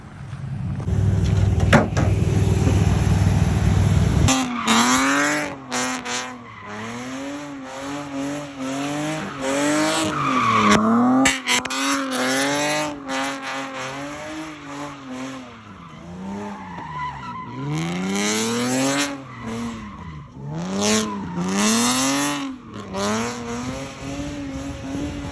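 A manual Lexus LS430 street drifts through long, wavering tire squeals and skids with revving engine surges, repeated slides sweeping near and away continuously, no talk.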